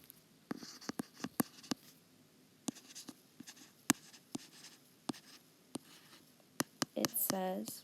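Handwriting with a pen or pencil on paper: a series of short, faint scratches and taps spaced irregularly while a teacher talks quietly, ending with a louder stretch of speech.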